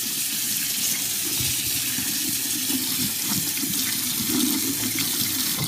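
Makeup brushes washed in small bundles under a running tap: a continuous, fairly loud rush of water with a low splashing churn underneath, steady from start to finish.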